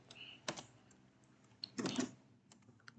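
A computer keyboard gets a few quiet, scattered keystrokes, with light clicks and a short cluster of taps in a still room.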